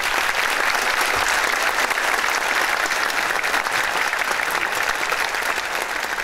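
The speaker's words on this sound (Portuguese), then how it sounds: "Eu peço uma salva de palmas aos nossos jubilados." Loud, continuous applause from a large audience honouring veteran lawyers at a bar association celebration, a thick even roar of clapping hands that holds steady throughout.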